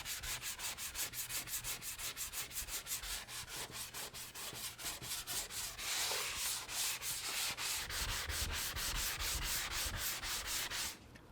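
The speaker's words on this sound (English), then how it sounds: "We're just going to use a regular sanding block to do all of this" Drywall joint compound being hand-sanded with a regular sanding block, a close, rhythmic back-and-forth scratching with quick regular strokes that slow briefly and then resume, with no talking.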